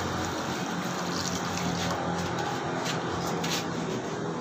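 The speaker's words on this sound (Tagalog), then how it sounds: "Lalagyan ko lang po ng konting tubig." Water pours steadily into a cooking pot for tilapia, a continuous close splashing and trickling that runs for several seconds with no talk over it.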